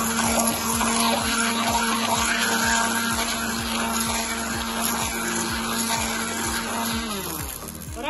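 An electric beater whirs steadily and loudly through pancake batter with butter, a continuous motor drone with a faint rhythmic pulsing that slows slightly near the end.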